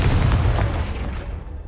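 Confringo fire spell blast in Hogwarts Legacy, a single loud booming burst with deep low rumble that trails off over under two seconds.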